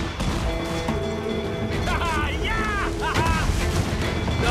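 Ship cannons firing during a naval battle in Assassin's Creed IV Black Flag, heavy booming blasts under a dense, continuous battle roar, with shouted crew voices and whistling tones rising over the din.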